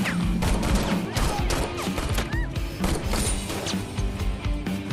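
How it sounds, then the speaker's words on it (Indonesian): Rapid, irregular bangs and cracks of firecrackers burst one after another, loud and continuous, with overlapping pops throughout. "Kemudian petasan mulai berbunyi dan saling bersahutan."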